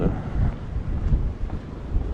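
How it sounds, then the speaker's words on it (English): Gusty winter wind at Alcudia harbour, Mallorca, buffets the microphone with low, rumbling rushes, steady and close, with no voices. "It's not really cold, it's just windy basically."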